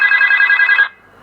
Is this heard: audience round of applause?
no